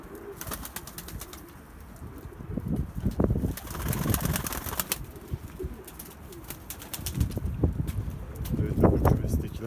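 Pigeons let outside, including young homing pigeons, coo softly amid bursts of wing flapping, with gusty wind and a voice speaking nearby throughout.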